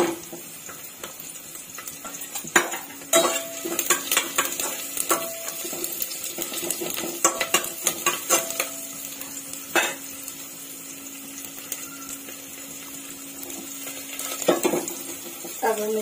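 Whole garlic cloves sizzle in a hot pan for jackfruit do pyaza while a utensil stirs and scrapes intermittently, with occasional louder clinks against the metal.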